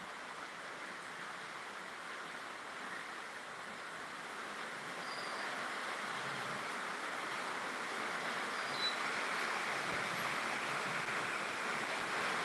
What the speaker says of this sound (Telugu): వర్షం అయితే కొద్దిగా స్లోగా వస్తుంది ఇప్పుడైతే కొద్దిగా అయితే తగ్గింది